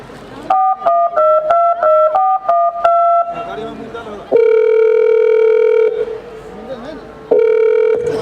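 A telephone call in a school stage skit: a series of short repeating ring tones at first, then long steady electronic tones with background noise, loud and close.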